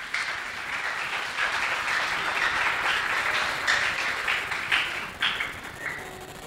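A congregation at a Portuguese-language church service claps loudly for Jesus, dense steady applause running the whole time with a few sharper claps near the end.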